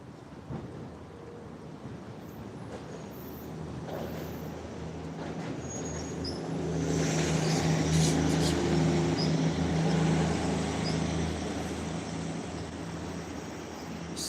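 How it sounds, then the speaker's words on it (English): A Union Pearson Express airport train pulls into a Toronto station, a low rumble swelling after a few seconds into a sustained roll of wheels with faint squeals, fairly close and without talk. "We got another train coming."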